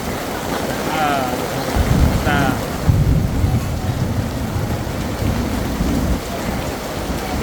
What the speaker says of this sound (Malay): Ya, hujan makin lebat kan.